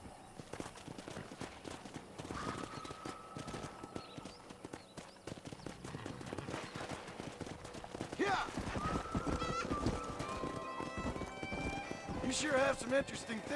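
Hoofbeats of galloping wild horses in Red Dead Redemption, a dense clip-clop that grows louder and more crowded, with whinnies rising near the end.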